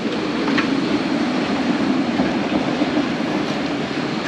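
A metro train in Rio de Janeiro, Brazil, gives a steady, loud rumble with a broad hiss of wheels on rail, close and unbroken for the whole stretch, with no voices.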